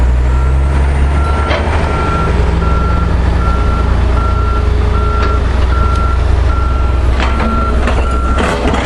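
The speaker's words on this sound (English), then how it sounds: "So we have the truck now backing up." A truck reverses at a road construction site near a Cat 215G LC excavator, its reversing alarm beeping in a steady, evenly spaced rhythm over a loud rumbling diesel engine, with occasional clanks and air-brake hisses.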